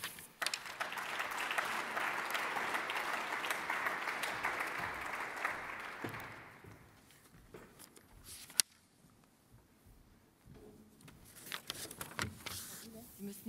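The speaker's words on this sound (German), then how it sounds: "Ihr Applaus." Steady applause from an audience at a health forum event fills the first several seconds, then thins into scattered claps and light room noise with a sharp knock.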